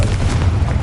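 A Confringo fire spell from Hogwarts Legacy lands as a loud, deep boom that rumbles on for the full brief moment, with no voices over it.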